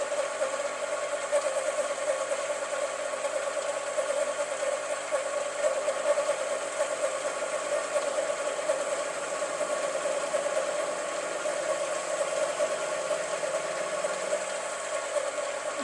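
A lathe turns a copper and wooden ring, giving a steady mechanical whir with a ratcheting rattle that holds at an even level throughout, with no talk over it.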